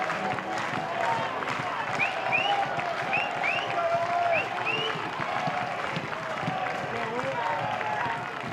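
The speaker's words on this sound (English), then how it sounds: "This Louisville crowd has brought energy to every pitch of this game today." A Louisville crowd at a college baseball game against Miami applauds and cheers in a steady, dense roar that persists throughout, with a broadcast commentator's voice audible over it.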